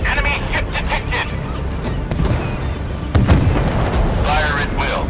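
Warship guns and missile launches in the naval combat game Force of Warships, heavy booms and blasts thudding under a steady game soundscape, with a sharp burst near the middle and a crackling sweep toward the end.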